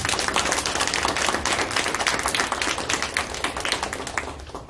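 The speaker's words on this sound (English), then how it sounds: "Give a round of applause." Audience at a real-estate seminar claps continuously and fairly loudly for several seconds, a dense patter of many hands that eases slightly toward the end.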